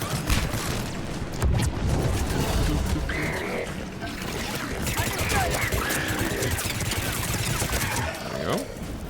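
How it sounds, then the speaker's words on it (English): Rapid gunfire from a Mass Effect 3 firefight keeps up a dense, steady barrage of shots and impacts, loud and close, with game effects and voices woven through the mix. "I guess we're shooting."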